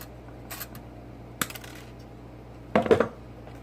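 Cutters snipping nichrome wire for a homemade soldering gun, giving a few sharp, brief metallic clicks spaced apart and then a louder cluster of snaps near the end, close and otherwise quiet.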